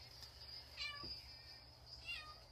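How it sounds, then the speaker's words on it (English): A pet cat meows twice indoors, two short, fairly faint calls about a second apart over a steady low hum and a high electrical whine. "it's just one of my cats"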